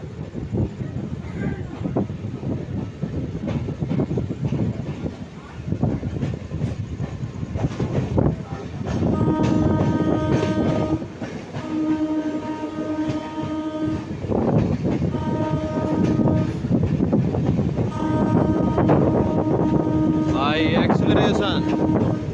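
A train pulls out of Etawah Junction with rumbling wheels and clattering carriages, while a horn sounds in repeated long blasts over the rolling noise, close by on the platform.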